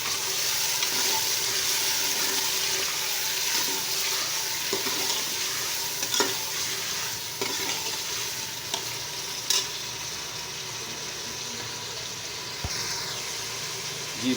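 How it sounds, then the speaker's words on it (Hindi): Chicken pieces frying in a pot, a continuous soft sizzle with occasional stirring clinks and scrapes, fairly quiet and steady throughout, no voices. "अब चिकन डालेंगे इसमें। और 5 से 7 मिनट इसे भूनेंगे अच्छी तरह।"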